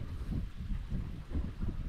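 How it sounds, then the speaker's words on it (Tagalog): Strong wind buffeting the microphone, a continuous low rumbling roar with gusty surges throughout and no voices. "Lakas po ng hangin, nakakasamin."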